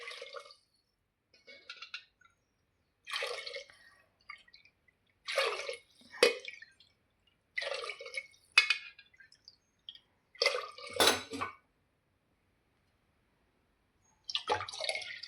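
Water is poured into a pot for cooking jeera rice in several separate splashing bursts with silent gaps between them, close and fairly quiet.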